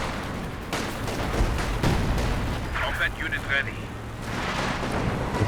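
A base barrage artillery strike in the Company of Heroes 2 video game rumbles as a dense, continuous wash of booming shellfire and explosions, with someone talking over the din.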